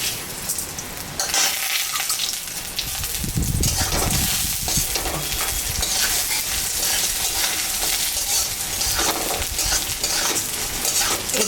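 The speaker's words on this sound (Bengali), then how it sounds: "এটা হালকা ভেজে নিয়ে জল দেব।" Mung dal being lightly fried in a pan for a home-cooked dal and ash gourd dish, with a steady loud sizzle and repeated stirring scrapes throughout and no speech.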